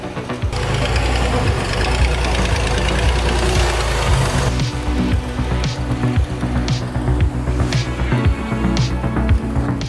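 A Chevrolet S10 off-road truck labours up a steep mountain trail in Colorado, its engine a loud, steady drone with rough knocking pulses and no letup.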